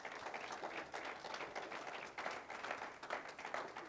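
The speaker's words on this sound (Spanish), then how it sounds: "Dale una ofrenda de palmas al Señor." Applause offered during a Spanish-language church service, a steady mass of clapping hands that rises and falls in rhythmic bursts, full and continuous throughout.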